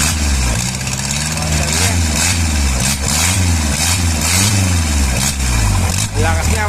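An Isuzu 4BA1 diesel engine runs close by with a gruff, throbbing idle, revved up and down repeatedly in smooth swells while someone talks over it.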